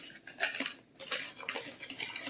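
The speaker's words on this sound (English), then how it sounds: "And then I just whisk that in" A whisk clatters rapidly against a bowl while pancake batter is mixed, producing close, busy metallic scraping and tapping in uneven bursts.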